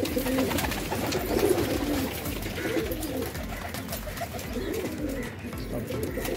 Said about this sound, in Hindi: ये सब फैंसी कबूतर है